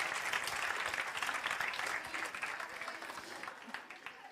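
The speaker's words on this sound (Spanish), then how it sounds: "hem de donar-li un fort aplaudiment" An audience at a science talk breaks into sustained applause, many hands clapping in a dense, moderately distant wash that fades slightly toward the end, with some voices faintly mixed in.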